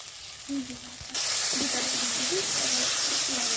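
Aubergine with ground nuts is stirred in a hot pan; a quiet start gives way to a sudden loud, steady sizzle with faint repeated tones underneath.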